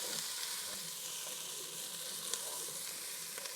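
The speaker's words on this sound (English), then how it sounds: "But I love wooden spoons when it comes to stirring." Food sizzling steadily in a pan for a chicken bacon ranch casserole as a wooden spoon stirs it, with a constant broad hiss and a few faint scrapes and clicks of the spoon, no voices.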